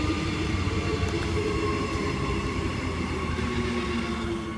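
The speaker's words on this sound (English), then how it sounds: "Brisbane City and Gold Coast train arriving into platform 1, SMU 263 and SMU 278" A Queensland Rail SMU electric train, sets 263 and 278 on a Brisbane City and Gold Coast service, rolls into platform 1 at Wooloowin with a continuous loud rumble, steady motor whine and faint wheel squeals, easing slightly at the end.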